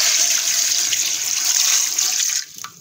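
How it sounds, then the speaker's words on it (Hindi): One liter of water pours steadily into a cooking pot holding salt and quartered small onions for a Butt karahi, a loud continuous rush lasting a little over two seconds before stopping abruptly. "अब हम इसमें 1 लीटर पानी ऐड करेंगे।"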